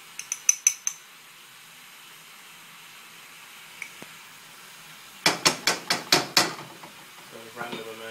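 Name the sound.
stirring sugar into braised pork belly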